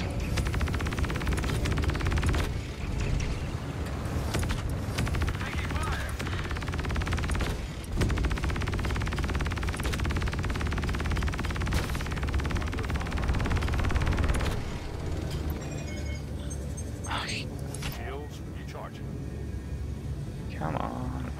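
Rapid machine gun fire from a Gladius spaceship in Star Citizen, a continuous dense chatter over a heavy low engine rumble that runs throughout, with brief sharp bursts standing out near the end.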